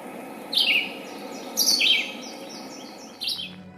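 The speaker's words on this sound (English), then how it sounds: "This songbird is the red-eyed vireo." A red-eyed vireo sings three short, sharp, chirping phrases, each separated by a brief pause, close and clear over a quiet background.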